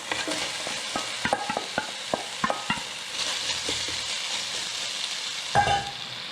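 Onion sautéing in oil in a pan on low heat: a soft steady sizzle with irregular spoon or spatula taps and scrapes, a louder clatter near the end, no voices.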